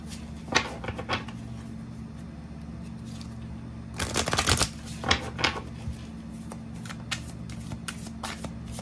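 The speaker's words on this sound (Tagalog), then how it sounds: "Kumuha pa tayo dito ng isang baraha sa isang tarot deck." Tarot cards are handled and shuffled in crisp bursts, with a long riffle in the middle and scattered flicks and taps around it, close up over a steady hum.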